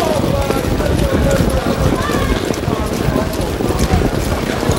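Harness racing horses pound around the Meadowlands track in a continuous rumble of hooves and rushing air, loud and close, with an announcer's voice calling over it.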